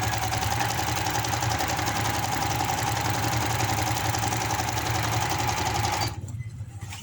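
Sewing machine stitching palazzo pants, a steady rapid mechanical whirr close up for about six seconds before stopping abruptly.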